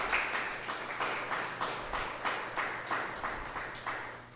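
Rhythmic clapping from a church congregation applauding the Lord, a steady series of soft, evenly spaced claps at moderate distance with no talk over it.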